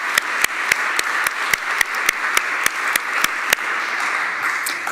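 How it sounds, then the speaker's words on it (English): A round of applause for working group heads at a networking day event: a room of clapping with several sharp, distinct claps standing out above the steady patter. "Could I please ask for a round of applause to all heads of working groups today?"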